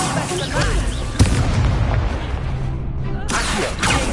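In Hogwarts Legacy an Incendio fire spell bursts with a sudden boom followed by a roaring, crackling whoosh of flame, loud and close, with other game effects and a voice around it.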